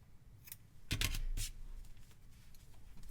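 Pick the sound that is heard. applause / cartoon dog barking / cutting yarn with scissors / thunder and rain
cutting yarn with scissors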